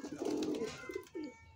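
Domestic pigeons kept in a small home loft coo softly, two or three low rolling coos heard close by against faint background noise, with no talking.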